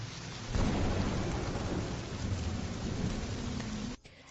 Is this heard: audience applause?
no